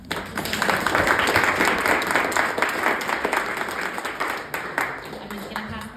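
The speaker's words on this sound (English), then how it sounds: "Please give these two a round of applause" An audience at an abstract art event applauds two artists, with steady, moderately loud clapping from a small gathered crowd that fades toward the end.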